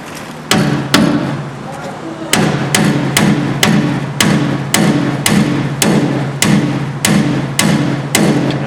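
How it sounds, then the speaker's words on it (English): Sharp metal hammer blows strike a 1970 Blazer quarter body panel, about a dozen loud, close impacts in an uneven steady rhythm, each ringing briefly over a low background hum. "I can hammer this back in"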